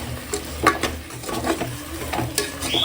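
Mutton nalli bones frying and being stirred in a pan for a kurma, with soft sizzling under repeated scraping and stirring strokes close by.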